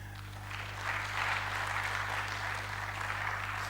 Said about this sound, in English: let's give a good round of applause to Madame Helen